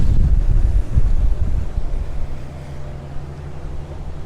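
A 2019 Tahoe 2150 center-console boat with a Mercury 225HP outboard speeds into the wind at about 47 mph, heavy wind buffeting and water rush over a steady low engine drone.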